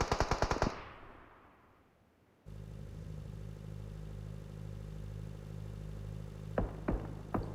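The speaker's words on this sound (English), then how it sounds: "Shots, of course, being fired." Gunfire in PUBG Mobile, with a rapid burst of automatic shots up front, then a pause before a steady engine drone of a game vehicle takes over, and a few more sharp shots near the end.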